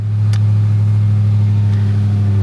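A Dodge Charger Hellcat's 797-horsepower engine runs loud and close while cold, a steady low rumble with a slight rise in revs, no voices.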